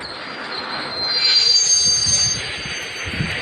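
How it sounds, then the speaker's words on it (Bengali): A train moves in a video game, its wheels squealing loudly with a high, sustained metallic screech over a rumbling roll that swells in the middle, with no talk. "ট্রেনের উপরে জাম্পতে"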